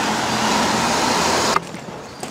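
Car driving toward a forest, heard from inside as a steady broadband road and engine rumble that drops off sharply partway through, leaving quieter cabin noise with a couple of small knocks.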